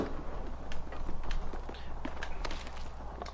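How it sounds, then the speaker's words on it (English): Footsteps in a video game, a quick run of soft steps over steady broadband background noise, fairly close and with no talk over them. "I'm pretty sure I heard footsteps near you"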